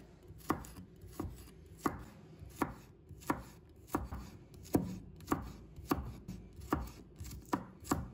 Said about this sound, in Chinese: 再切成末，这样蒜香味比较容易出来。